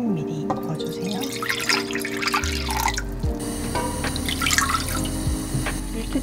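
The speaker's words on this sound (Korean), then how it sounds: "물 500ml 부어주세요." Water pours and splashes into a pot while making fish cake soup, a steady running, dripping flow with faint kitchen clinks.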